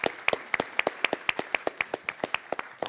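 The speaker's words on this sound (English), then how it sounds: "So, big round of applause." Steady, fairly regular hand claps in quick succession, like a small group applauding, with no voices over them; audience applause at a schools event.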